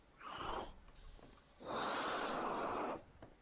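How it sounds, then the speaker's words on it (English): Wytchsun: Ellos Origins game character making mechanical, Darth Vader-like breathing, two slow hissing breaths, a short inhale then a longer exhale, close and fairly quiet with pauses between. "get ready for more Darth Vader breathing."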